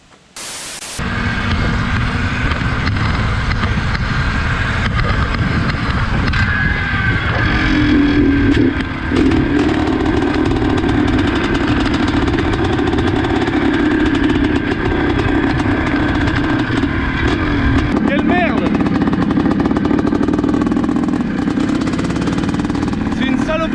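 A Suzuki RM 465 motorcycle engine starts and runs, a loud steady rumbling drone close by with revving shifts partway through, under heavy wind-like static noise.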